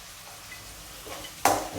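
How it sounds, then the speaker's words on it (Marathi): Tomato and onion hit hot oil in a pan for kande pohe, a quiet stretch giving way to a sudden loud sizzle near the end that keeps crackling. "त्याच्यात आपल्याला हा टमॅटो पण टाकायचा आहे तेलामध्ये"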